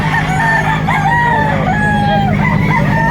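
Several roosters crow loudly over a constant hum of farm noise at a livestock auction market in Lipa, their calls overlapping and rising and falling nearby.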